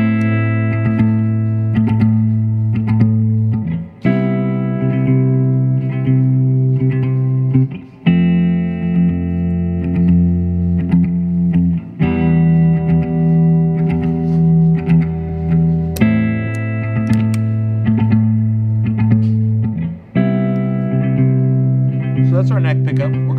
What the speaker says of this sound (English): Also going through a Fender Super Reverb amp, starting off on the neck pickup.